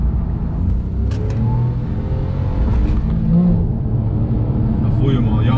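Porsche 911 engine in Sport Plus mode, revving up and droning steadily with low rumble, close up from inside the car, with someone talking over it.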